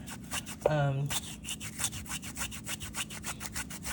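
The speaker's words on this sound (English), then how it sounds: "the zester looks like this, and you can just grate the ginger until you have enough" Fresh ginger is scraped across a kitchen zester in quick, rhythmic rasping strokes, a steady series of short dry scratches, with a brief voiced sound near the start.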